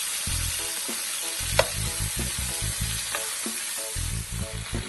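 Jamaican oxtail searing in a hot pan makes a steady, close sizzle and hiss, with one sharp clack near the start. Rhythmic background music plays throughout.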